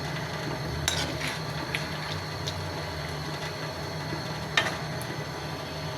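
Chicken with spring onions being stirred in a pan, steady sizzling with a few sharp clinks of a spoon against the metal, close and moderately loud with no talk.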